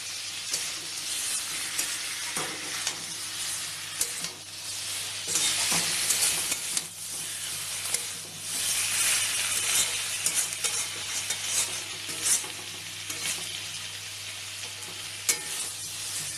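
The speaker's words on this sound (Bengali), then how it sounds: "এবার মশলাটা ভালো করে কষা, খুব ভালো করে কষে নিতে হবে।" Spice paste for egg curry frying and being stirred in a pan, a continuous crackling sizzle with scraping strokes of the spoon surging and easing throughout, close and loud with no talking.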